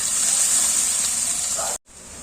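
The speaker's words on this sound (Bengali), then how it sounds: "পেঁয়াজটা একটু ভাজা ভাজা হয়ে এসছে" Onions frying in a pan during home cooking of a Bengali meal, a steady loud sizzling hiss that runs unbroken, cuts out briefly near the end, then resumes.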